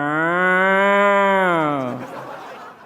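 A cow lets out one long, loud, close moo that swells and then trails off, heard alone.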